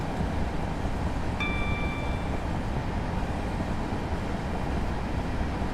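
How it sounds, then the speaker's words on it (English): A Class 465 commuter train on the London–Gillingham Chatham Main Line in Train Simulator 2018 picks up speed with a constant low rumble, and a brief tonal whine sounds once early on. "It picks up speed all right. I guess it's a nice little commuter train."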